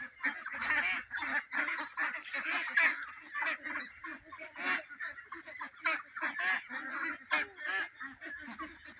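A flock of three-month-old local ducks on a duck farm quack and honk nonstop, loud and close, in overlapping bursts of calls.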